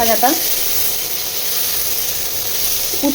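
Bitter gourd fries in a pan with a loud, continuous close-up sizzle and hiss, and a voice is briefly heard at the start and again at the end.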